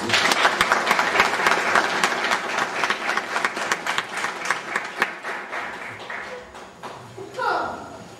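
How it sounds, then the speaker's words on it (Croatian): An audience at a formal commemorative academy in Željezno Polje breaks into loud, sustained applause that gradually thins out and fades after several seconds, followed by a brief voice. "Molimo vas gradimo jednim velikim aplauzom."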